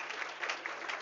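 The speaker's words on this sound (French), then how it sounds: "L'on demande de les applaudir à nouveau." A church congregation applauding during an anniversary service, dense continuous clapping from many hands, brief and fairly close.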